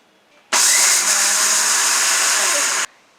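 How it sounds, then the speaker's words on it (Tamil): A kitchen mixer grinder grinds soaked rice to a semolina-like texture for modak, starting abruptly, running loud and steady for over two seconds with a harsh whirring roar, then cutting off sharply. "நீங்கள் மிக்சியில் அரைக்கும் போது பல்ஸ் மோடில் இல்லை வந்து பிளெண்டர் மோடில் பண்ணுங்கள்"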